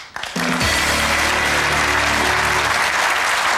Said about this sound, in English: please give it up for our judges. A round of applause again, please.